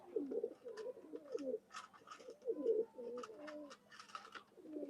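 A domestic pigeon of an old Khulna bloodline coos repeatedly nearby, soft rolling low calls in quick succession, with light rustling and faint background chirps.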